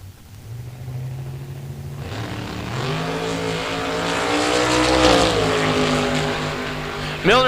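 A 1973 Pontiac and a 1988 Mustang launch off the line at a drag strip. Loud, close engines roar and climb steadily in pitch over several seconds, and a sharp burst cuts in at the end.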